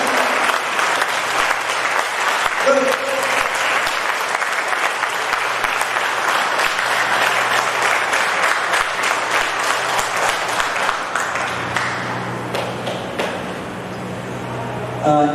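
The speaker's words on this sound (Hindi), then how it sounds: "तो एक बार जोरदार तालियां हो जाए।" An audience claps enthusiastically at a health product presentation, a thick, continuous wash of applause that holds steady for around fifteen seconds and eases slightly near the end, with no one speaking over it.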